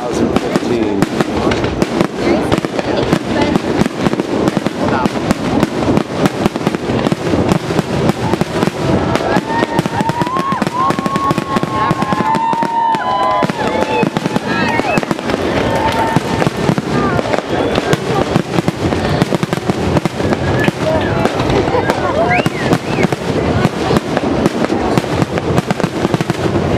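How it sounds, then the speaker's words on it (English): New Year fireworks exploding over a beach in Naples, Florida, with dense, continuous bangs and crackles through the whole stretch as a finale, and voices and crowd chatter mixed underneath. "They do fireworks."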